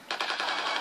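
A gunfire sound effect in a comedic video edit fires as a rapid burst of close, loud automatic shots lasting under a second.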